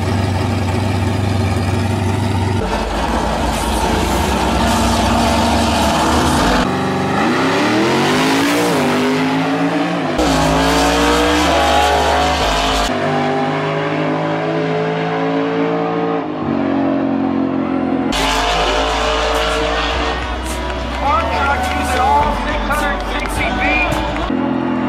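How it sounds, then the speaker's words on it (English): A Lamborghini Huracan races against a farm truck, engines revving loud and close with gear changes and rising pitch sweeps. Music plays over the engines, and a voice talks through parts of it. "We have a Lamborghini Huracan versus Grandpa's farm truck."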